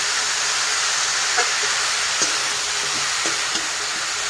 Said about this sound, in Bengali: শাকটা দিয়ে একটু 2 মিনিট নাড়াচাড়া করে এটাকে রেখে দেবো।